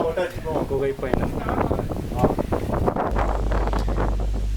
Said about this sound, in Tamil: இங்கே காற்று செம்மையாக அடித்தது பயங்கரமான காற்று அடித்தது